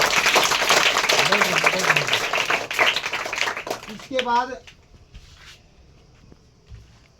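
Students clap together in a classroom, a dense burst of hand claps under a teacher's voice that fades out after a few seconds.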